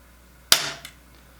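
A crossbow restrung with a paracord bowstring fires once, a sharp loud snap followed by a brief ringing decay and a small second knock, with no voices.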